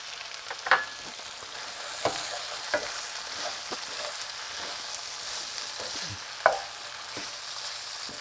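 Kidneys frying in a pan for Persian jaghoor baghoor, a steady hiss of sizzle with a few sharp utensil clinks against the pan spaced through the stretch, no talk.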